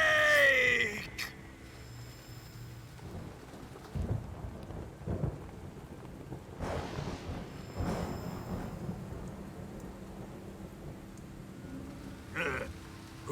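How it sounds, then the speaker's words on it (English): Thunder rolls over steady rain in Metal Gear Solid 3: Snake Eater, with a sharp crack at the start and then several deep rumbles across the stretch, moderately quiet under a constant patter of falling rain. "Who's afraid of a little thunder?"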